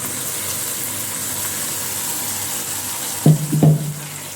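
Ground masala and coconut paste frying in oil for a sea crab gravy: a continuous soft sizzle with a couple of brief, sharp clatters near the end.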